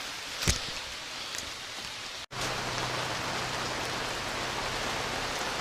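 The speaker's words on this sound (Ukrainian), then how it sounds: "Перечекаємо дощ." Steady rain patters down continuously, a dense, even hiss with a single sharp drop or knock near the start; no voices.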